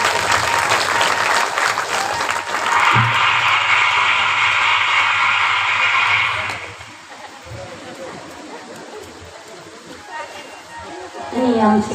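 A large audience at a Shiv Puran religious discourse claps loudly and steadily for several seconds, the applause fading out into a speaking voice over a quieter room.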